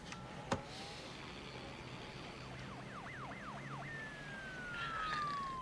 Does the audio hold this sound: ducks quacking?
no